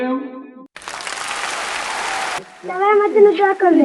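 Applause at a school's annual exam results announcement, a dense burst of clapping from a crowd lasting under two seconds, with people talking just before and after.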